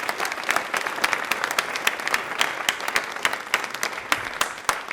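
A studio audience on a televised quiz show claps enthusiastically, a lively round of distinct, sharp hand claps with audible individual strikes, fairly close and sustained throughout.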